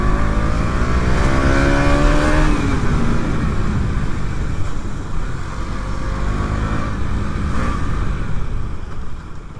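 KTM Duke 200 motorcycle engine heard loud and up close while riding, a continuous rough roar with rising and falling revs and steady wind rush throughout.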